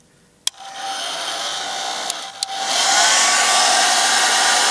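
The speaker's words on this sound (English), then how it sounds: "we're going to use a blow dryer. We're going to put it on low heat" A blow dryer set to low heat warms windshield tint film under a trash bag, giving a steady close whir with a few sharp clicks and bumps before the airflow swells louder.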